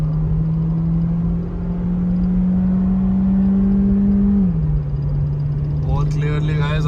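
VW Virtus GT 1.5 and Virtus 1.0 TSI cars accelerating in a drag race, a steady loud engine drone that holds a pitch then drops as a gear changes, with voices talking over it near the end.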